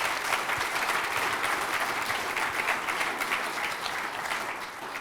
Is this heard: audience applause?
yes